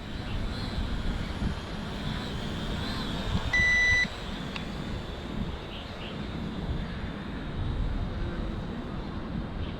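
Steady high whine of a small budget E68 quadcopter drone flying outdoors in wind, a constant buzz with broadband wind rumble beneath, a short beep partway through, brief surges as it attempts a flip.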